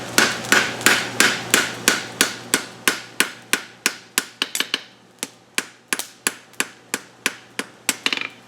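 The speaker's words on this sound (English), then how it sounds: "Alright, we're welding." Hot steel being forge welded under a hammer, a run of sharp, evenly paced ringing blows at close range, some coming in quick doubled strikes, with no voices.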